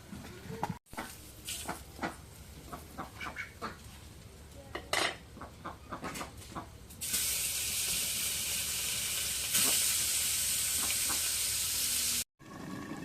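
Small hilsa sautéed with potato and eggplant on a village clay stove: a spoon clinks and scrapes against the pan in short, irregular knocks, then a loud, steady frying sizzle takes over, close by and without talk.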